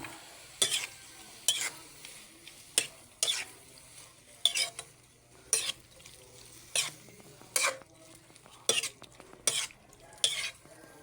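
Cuttlefish simmering in a pan with chili is stirred repeatedly, regular scraping utensil strokes about once a second over a soft bubbling sizzle, close and fairly quiet.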